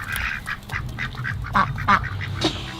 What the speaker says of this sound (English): the ducks are all in my washing station